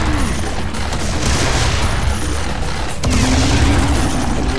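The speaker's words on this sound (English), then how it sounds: "I guess I'm shooting both shots at the same time" Rapid gunfire fills the scene in the shooter Serious Sam 3: BFE, a loud, dense barrage of overlapping shots and booms that barely lets up, with a sharp blast near the midpoint.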